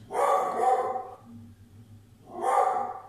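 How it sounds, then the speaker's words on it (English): A pet dog at home barks twice, close and loud, each bark a short, full burst with a quiet gap of over a second between them. "there's Clyde barking again"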